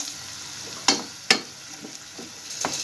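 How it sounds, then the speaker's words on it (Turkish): Tomato paste and onions fry in a pot for a Turkish barbunya bean dish, giving a soft, steady sizzle broken by two sharp spoon scrapes and a few lighter stirring clinks, close and without talk. "Şimdi de içerisine bir yemek kaşığı salçam ekliyorum ve kavuruyorum."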